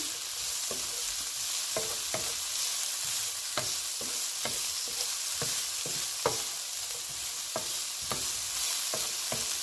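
Jamaican-style jerk shrimp sautéing in jerk seasoning in a pan, with a steady close sizzle broken by repeated clinks and scrapes as the shrimp are stirred.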